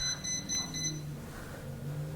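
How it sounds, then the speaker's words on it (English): In a historic museum house, an alarm gives a short run of about four quick, high electronic beeps, then stops, leaving only a low room hum. "It almost sounds like a little alarm, like Beep, beep, beep, beep."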